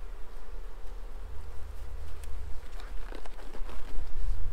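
Honey bees swarming, a steady dense buzzing hum of many insects close by, with scattered louder passes as individual bees fly near, no talk.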